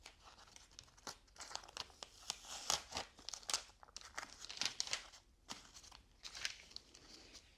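Sheets of pattern paper for an intarsia tulip cross are handled close by, crinkling and rustling in quick irregular bursts with occasional sharper crackles, fairly faint.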